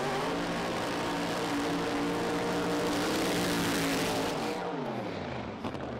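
A pro mod drag racing car at a British Drag Racing Championship round roars loud and close through a burnout, a sustained heavy engine howl that drops in pitch near the end.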